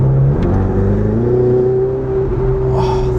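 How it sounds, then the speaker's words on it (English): A Ferrari 488 Spider V8 driven with the roof down, its engine revving loudly and close, with a smooth rising and settling tone that holds steady for several seconds. "That sound that you hear is just spilling this most beautiful orchestra of V8 Ferrari noise straight into your ears"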